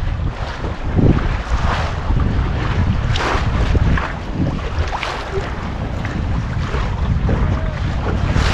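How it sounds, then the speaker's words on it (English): Wind rushing over a small sixty-year-old trailer sailer sailboat, a loud, steady roar with gusty buffeting against the microphone and faint water movement underneath. "the wind is chilled out now"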